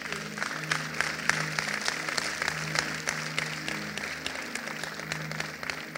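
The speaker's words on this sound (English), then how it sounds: "Clap for Jesus" Church congregation claps together during a sermon, a sustained roomful of hands with a faint rhythmic pulse and a low musical hum underneath.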